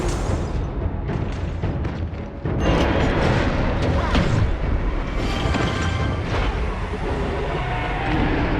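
A turret blowing up in the Honor of Kings video game, a deep booming explosion that jumps in loudness partway through and then stays loud and dense with crashing debris and game effects.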